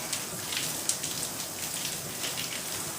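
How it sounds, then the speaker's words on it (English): Shower water rinsing a body, a steady hiss of spraying and splashing water with scattered droplet taps, fairly faint and continuous with no voices. "I'm going to rinse the dirt, the oil, and such from my body"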